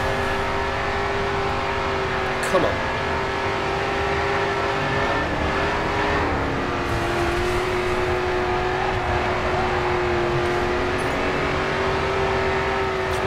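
A race car engine in the video game GRID 2 holds a steady, droning rev at high speed, loud and continuous throughout with slight pitch shifts, while a voice briefly mutters over it.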